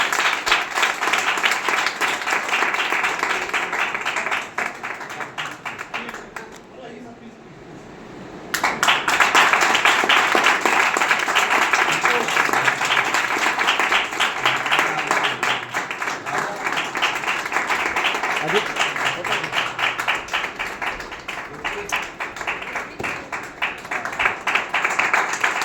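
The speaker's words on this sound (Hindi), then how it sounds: "जोरदार तालियां, जोरदार।" Loud, sustained applause from a large audience at a lively stage programme, dense clapping that briefly dips before surging back and continuing strongly throughout.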